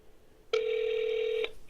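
A single steady electronic beep on a telephone call marks the start of voicemail recording, lasting about a second, clear and alone over faint line noise.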